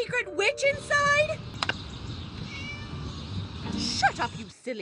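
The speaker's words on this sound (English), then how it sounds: "Shut up, you silly cat." A cat in the Scary Teacher 3D video game gives loud, drawn-out meows close up, repeated several times in a row, with a voice speaking at points.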